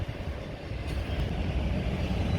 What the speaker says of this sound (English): Here's the train, by the way.